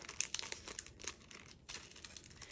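Close, quiet crinkling and crackling of thin plastic packaging being pulled open in short bursts.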